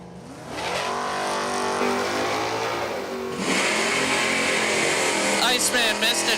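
Two drag cars, a 1970 Dodge Challenger and a 1970 Ford Mustang with a Ford 408, roar loudly at a dragway time trial, the engine noise swelling and shifting over several seconds, with an announcer talking over it.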